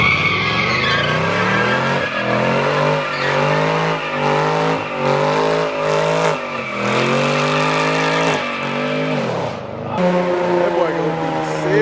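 A car slides and revs hard at a street takeover in Atlanta, with its engine pitch rising and falling in repeated loud surges amid tire noise, while people talk and shout nearby.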